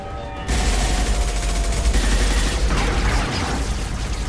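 Sustained automatic gunfire fills a combat scene in the Mass Effect 2 video game. It sounds as a dense, loud, continuous rattle of shots that begins abruptly after a brief quieter opening and runs without pause, with no talk.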